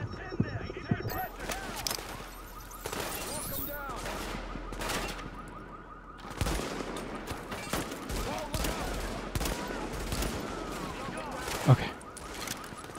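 Rapid gunfire and sniper shots in the video game The Division, dense bursts of automatic fire and sharp single cracks that continue throughout, loud and close, with a voice talking underneath at times.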